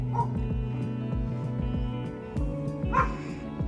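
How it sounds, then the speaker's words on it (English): A neighbour's black Labrador barks in a garden, a rapid run of repeated deep barks with a few yips, loud and fairly close, with no talking. "That's our neighbor's dog, Blue."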